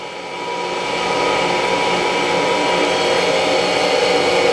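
A Cadillac 2260G 22-by-60-inch engine lathe spins up, then runs with a loud, steady mechanical whir and hum that holds at an even level close by.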